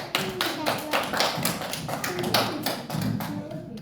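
Children clapping together in a second-grade classroom quiz, a dense, steady patter of small hands throughout with a few voices mixed in.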